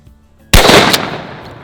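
A single loud, close shotgun blast fired at a patterning target 40 yards away, a sudden sharp crack followed by a short fading rumble after a moment of quiet.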